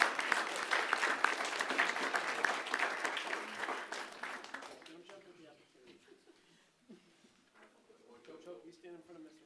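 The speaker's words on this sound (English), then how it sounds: "So let's have a big round of applause for these future leaders." Audience at a school board meeting breaks into loud clapping that fades after several seconds, followed by quieter chatter and a few voices in the room.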